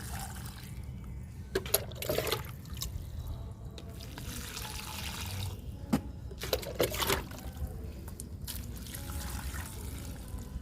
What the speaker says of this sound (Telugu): మిరప మొక్కలకి ఇస్తున్నా వాటరు